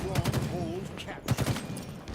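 Sniper rifle fire during a college Halo esports playoff match, heard as two quick bursts of sharp cracks about a second apart, mixed under an excited commentator's voice.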